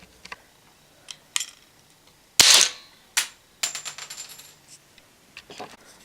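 A homemade mousetrap handgun fires a can cap with one sharp, loud crack, followed by a few lighter clicks and rattles. Several faint taps sound before it, and smaller knocks come after it in a quiet setting.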